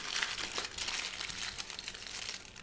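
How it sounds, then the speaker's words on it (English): Aluminium foil crinkles and rustles continuously up close as it is folded under a Wiener sausage wrap, a short burst of dry crackling with no speech. "I'm going to put a little bit of foil"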